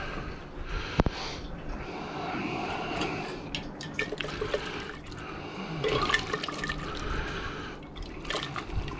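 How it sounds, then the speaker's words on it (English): Water splashes and trickles as gold recovered from RAM and BGA chips is rinsed during a wash procedure to remove iron solution, with irregular pours, drips and swirling liquid at close range. "Give it a good rinse."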